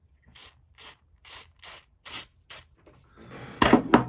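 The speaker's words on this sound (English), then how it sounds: "Bit of a spray, some grease. Not grease, sorry, just a little bit of lubricant." Six short, evenly spaced hissing bursts from a spray can of lubricant on a 1970s Stihl chainsaw, followed by a louder metallic clatter of parts.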